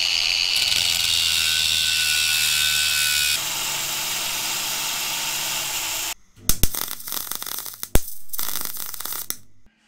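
A power tool cuts steel bar brackets for an electric scooter build, a loud steady grinding whine that drops in pitch midway, then stops and gives way to sharp clanks and knocks of metal being handled.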